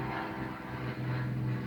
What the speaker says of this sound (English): Sorry for the plane, flying lessons again.